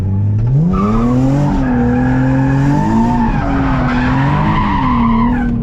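A Nissan 370Z's tires squeal in a long, loud, continuous skid after a clutch dump, the engine note rising and falling beneath the screech throughout.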